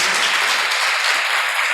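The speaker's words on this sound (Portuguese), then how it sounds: "Vamos aplaudir a Jesus." A church congregation applauding, a dense, even wash of clapping that stays loud and steady for its short length with no voices over it.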